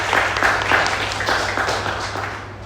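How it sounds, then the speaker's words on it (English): Audience applause at a talk in Singapore, a dense steady wash of clapping through the whole stretch that tapers slightly at the end, with a voice faintly mixed in. "Big applause for everyone for hosting us and organizing everything."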